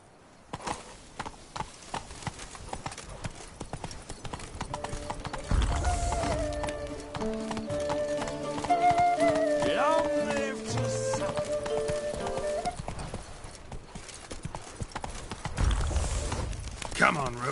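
Roach's hooves clatter in a rapid gallop in The Witcher 3, a steady rhythm of close hoofbeats. Game music and voices swell over it midway and partly bury the beats before they come through again.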